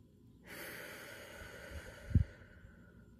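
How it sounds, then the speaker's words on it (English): Slow, deep breaths drawn in and let out during an energy healing self-exercise, fingertips resting on the eyebrow ridge. The breathing is soft and close, with one sharper, louder exhale or sniff partway through and no talking. "let's just do a couple of breaths like this"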